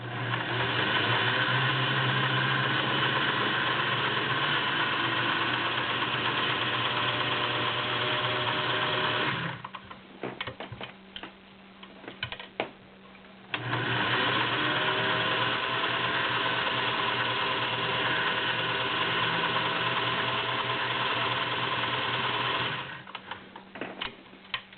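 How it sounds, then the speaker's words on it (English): Vintage Singer 401A Slant-O-Matic sewing machine sewing zigzag, running loud and steady with a whirring mechanical hum for about nine seconds. It pauses briefly, then runs again for another long stretch, close up with no talking. "I'm going to sew for you. This is a zigzag."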